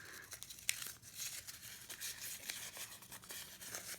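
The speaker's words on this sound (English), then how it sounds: "I like to crumple it up and then flatten it back out." Paper being torn by hand and crumpled for card making, quiet and close, with scattered crinkling rustles and short ripping bursts.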